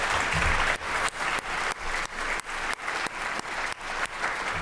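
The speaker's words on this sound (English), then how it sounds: "let's give a round of applause for the fabulous work" A conference audience gives a round of applause after a special session panel, a full, sustained crowd clapping that stays loud and even from start to finish, with no talking over it.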